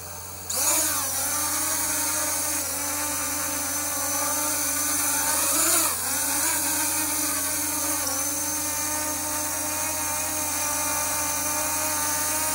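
An Aosenma CG035 Black Edition six-propeller drone lifts off on auto takeoff, its motors whining into a loud, steady high buzz with a few pitch sweeps as the propellers change speed, holding close for the whole stretch.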